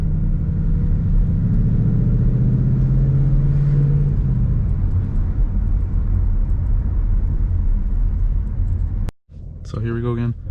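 A manual car's engine rumbles steadily from inside the cabin, with a rise and fall in revs around a gear change; a brief voice is heard near the end.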